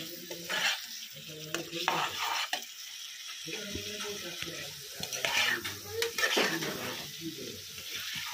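Food being stirred in a pan, with rhythmic scraping and clattering strokes of a utensil over a low sizzle, close and fairly quiet, with no voices.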